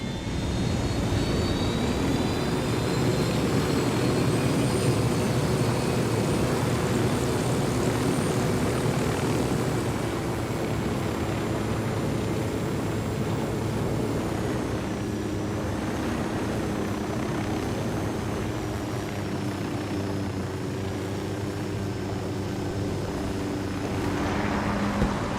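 Aircraft engine in the Ghost Recon Wildlands game, a loud continuous drone that stays steady and alone throughout, with its pitch shifting slowly.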